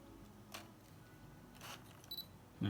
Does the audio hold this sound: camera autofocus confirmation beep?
yes